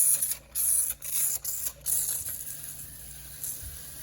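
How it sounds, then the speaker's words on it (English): Water spray hissing onto a walk-in freezer coil during a gentle rinse, a soft sustained hiss broken by several short pauses early on, then steadier and quieter, no talking. "So as long as you spray slowly, even in a freezer when you have to defrost the coil"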